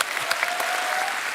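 A studio audience bursts into steady applause, dense clapping filling the room at a constant level with no voices over it.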